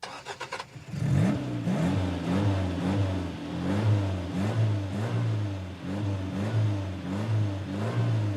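A car engine cranks briefly, catches, then revs up and down in a series of repeated throttle swells, moderately loud and close, with no voices over it.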